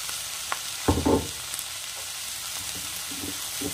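Soy sauce and tomato sauce being stirred into a pan and fried, giving a steady low sizzle with a couple of short clattery stirring bursts near the start, moderately close and alone.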